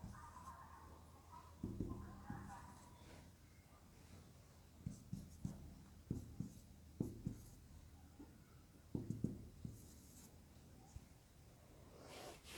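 Pen or chalk strokes of integers being written by hand, soft scratchy taps in short irregular bursts, faint and close, with a light voice or breath sound near the start.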